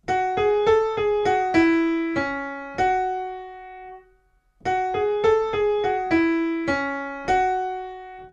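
A plucky piano melody of quick single notes, played as a short phrase, a brief pause, then the phrase repeated, clear and close with no talking.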